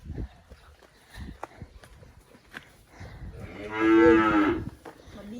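Cattle in a farm pen: one loud, drawn-out moo near the end, after quieter shuffling, thumps and faint voices in the stall.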